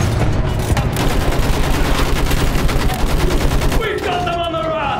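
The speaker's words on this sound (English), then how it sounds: "Use that machine gun! Mow them down!" Rapid machine gun fire in the Battlefield 1 video game, set in a trench battle, rattles loudly and continuously in dense bursts with heavy combat noise underneath.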